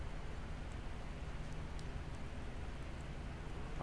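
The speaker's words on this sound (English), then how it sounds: "We'll get drenched really quickly, but we'll get out of the rain very quickly." Rain falling in the video game Project Zomboid, a soft, even hiss of steady rainfall that continues unbroken at low level for a few seconds, with no talking.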